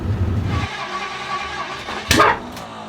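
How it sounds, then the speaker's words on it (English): A 1960 Ford Starliner engine running after starting, a low rumble that fades into a quieter steady idle, with a brief louder rev or burst near the end. "So luckily after some time the engine started running normally and it sounded healthy."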